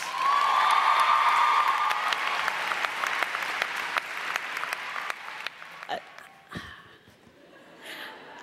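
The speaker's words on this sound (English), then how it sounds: "Would you please join me in welcoming Olivia with a round of applause?" A commencement audience at the College of Saint Benedict applauds loudly at first, then thins out into scattered claps and a few isolated bursts before fading.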